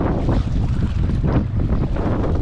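Strong wind roars steadily against the microphone at sea during night fishing, with the rush of water and a boat underneath the constant buffeting.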